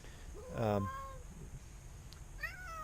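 A house cat meows loudly and close, a long drawn-out call followed by a shorter rising meow a couple of seconds later, over quiet room noise.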